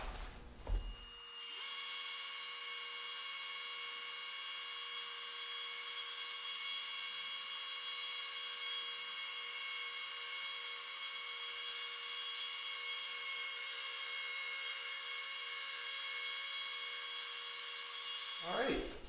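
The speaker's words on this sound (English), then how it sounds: "This is all nice and dry, ready to go through the sander, so we're going to run it through the thickness sander." A thickness sander runs steadily across the spruce top of an acoustic guitar under construction, giving a loud continuous whirring, abrasive roar for nearly the whole stretch that starts and stops abruptly.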